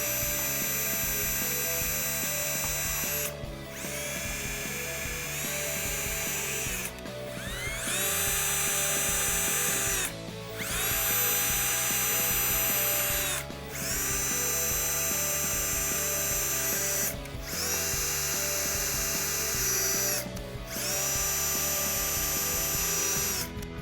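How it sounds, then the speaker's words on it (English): Power drill boring holes for a mesh upper grille insert on a 2013-2018 Ram truck, a high steady whine in repeated bursts broken by short pauses, close and loud with no speech. "So I've got my drill bit on my drill,"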